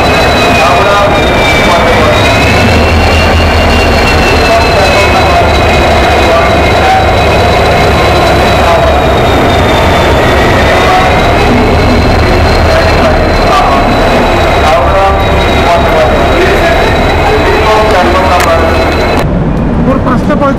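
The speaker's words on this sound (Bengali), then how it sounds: "ভোর 5:45 রাইট টাইমে ট্রেন ছাড়লো।" Duronto Express train pulling out of a station at dawn, a loud continuous rumble and engine drone with a steady high whine and low throb, heard from on board under faint background voices.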